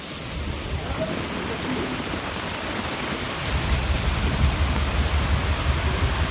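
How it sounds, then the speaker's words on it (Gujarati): Heavy rain pours off the deck of a ro-ro ferry in a storm, a continuous rushing roar of water, growing a little louder partway through. "આ બધું પાણી આ બાજુ નેવાધાર પડે છે"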